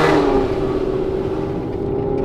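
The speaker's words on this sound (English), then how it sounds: "I can't even talk over how loud this car is." A Procharged 2017 Ford Mustang running on a dyno, its supercharged engine roaring loud and steady at high revs throughout with a sustained drone.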